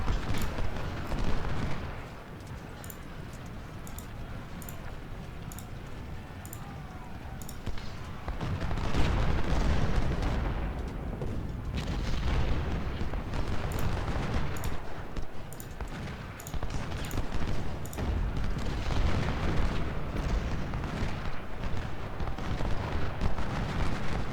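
Repeated heavy booms of cannon fire rumble through a constant battle din in a Civil War strategy game, some blasts near and loud, others distant and muffled.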